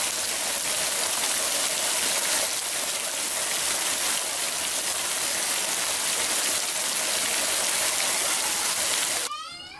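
Floodwater rushes and drains in flooded Capixaba after heavy rains in January 2016, a loud, dense, unbroken roar of flowing water that holds steady for nearly ten seconds before cutting off abruptly.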